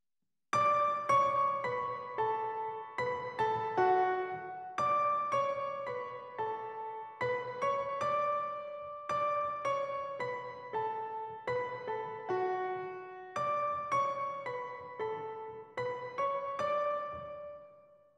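Grand piano from the Waves Grand Rhapsody instrument, drenched in Waves R-Verb reverb, plays a flowing intro of repeated broken chords and arpeggiated figures with steady rhythm, sustained and moderately loud, with no voices.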